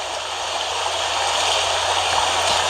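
River water flowing steadily, a continuous broadband rush with a gurgling, stream-like texture, close and even in level throughout with no speech.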